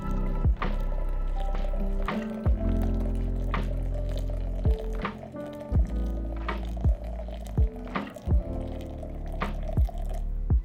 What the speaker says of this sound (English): As we add the water, just kind of push it around